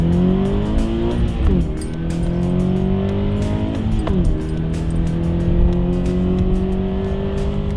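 A red 2013 Scion FR-S engine revs loudly up and down, its pitch climbing, dropping sharply twice and climbing again, close and continuous with no talk.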